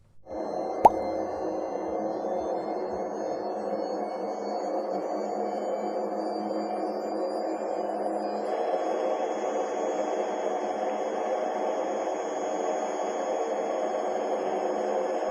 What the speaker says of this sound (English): Let me show you the grinding noise by turning on the washer.